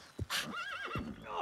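A horse whinnies loudly and close by, one drawn-out, wavering neigh lasting about a second after a short thud at the start, heard alone without speech.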